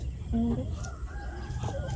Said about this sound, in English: A few chickens wander across the ground.